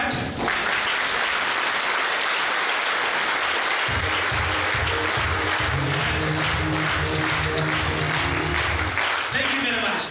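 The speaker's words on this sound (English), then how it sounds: "All of you, I want you to clap until I stop you from clapping." Audience at a public lecture on the Kenyan government's response to external shocks clapping continuously in a loud, sustained round, with a voice speaking over the applause partway through.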